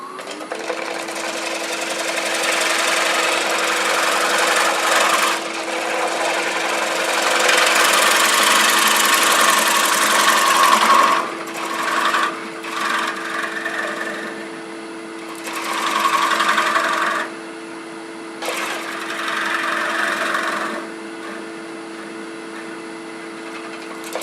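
A wood lathe spins a live-edge winged walnut bowl with a steady motor hum, while a gouge cut adds rising and falling scraping bursts that come and go over the drone.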